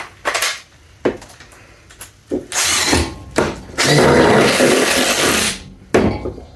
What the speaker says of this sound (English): So what I usually do a drill for is screwing wood together. So two pieces of 2x.